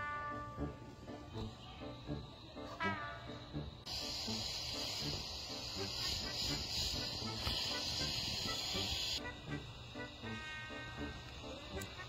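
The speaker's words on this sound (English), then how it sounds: "I'm squeezing this little nozzle here, letting the air out" Air hisses out of an inflatable through a squeezed nozzle, a steady high-pitched hiss that rises to a stronger, louder stretch in the middle before easing back, over low background noise.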